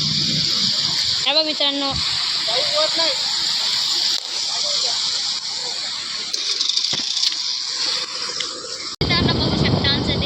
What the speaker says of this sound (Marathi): आम्ही आता पुलावर उभा आहे आणि तिथं खूप सारं पाणी आलेलं आहे